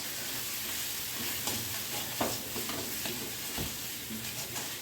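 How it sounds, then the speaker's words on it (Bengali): Spice paste for a jackfruit curry fries in a pan with a constant soft sizzle, broken by irregular scraping strokes of a spoon and a few sharper knocks, close and fairly quiet with no talking. "এবার ভালো করে মশলাটা কষানো হয়ে যাবে"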